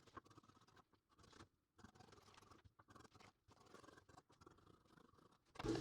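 Scissors snip through dress fabric while the front pieces of a gathered button-down dress are cut out: quiet, close crisp cuts in short bursts with brief pauses, then a louder rustle at the end.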